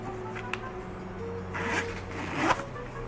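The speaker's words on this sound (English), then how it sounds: "the zipper bag should be really smooth to open and close" A zipper on a Hermes Birkin bag slides open and then closed, two smooth raspy pulls with a faint click between them, close up against a quiet background hum.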